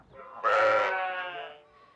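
Sheep from a flock tended by descendants of Spanish settlers give a single clear, wavering bleat, close and fairly loud, fading out after about a second.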